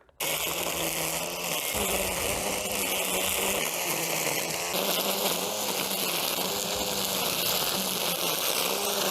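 An EGO ST1510E 56V battery string trimmer whines steadily and continuously at close range in the rain, a high buzzing drone with no breaks.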